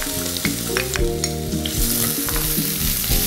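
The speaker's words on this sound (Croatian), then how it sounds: "Za početak u tavu na vruće ulje dodamo luk" Chopped onion sizzling in hot oil in a frying pan, a steady close crackle with stirring scrapes, loud and continuous with no talk; a low tonal hum also runs underneath.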